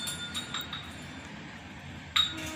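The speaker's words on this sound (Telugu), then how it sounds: "మూత పెట్టుకొని పక్కన పెట్టేసుకొని" A lid set down onto a container after soaking flour dough in a home kitchen, giving one short, fairly loud glassy clink near the end over faint room noise.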